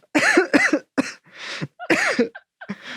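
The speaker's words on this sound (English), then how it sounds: "I'm coughing because I just recovered from COVID" A rapid run of harsh, throaty coughs from a woman just recovered from COVID, about seven bursts in quick succession, loud and close, with no speech.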